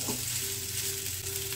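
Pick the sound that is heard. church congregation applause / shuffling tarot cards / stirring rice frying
stirring rice frying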